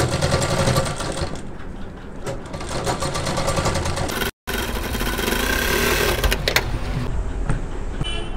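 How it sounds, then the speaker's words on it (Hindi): A sewing machine runs steadily and loudly while stitching the neckline of a kurti, a continuous close mechanical whir that keeps going through the whole stretch, broken only by one very short pause. "अब इसको हम लब की सिलाई मार लेंगे या फिर एक पैर की सिलाई मार लेंगे इसे जड़ने के लिए।"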